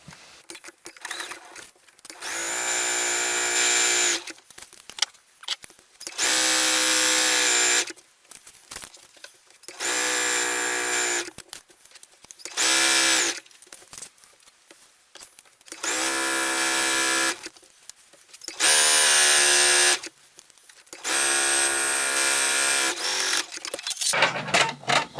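A sewing machine stitches up the hem of a simple dress in five or six loud, close bursts of fast whirring, each lasting a few seconds, separated by quiet pauses.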